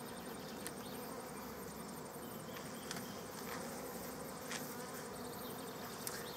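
Honey bees buzzing steadily around an open long bench hive during a colony move, a soft, dense swarm drone, quiet and continuous, with occasional individual bees zipping close past.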